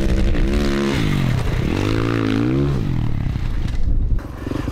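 A 2023 Kawasaki 450 KX motocross bike revving close by, the engine rising and falling in pitch through two swells as it works through a corner, with rough mechanical clatter.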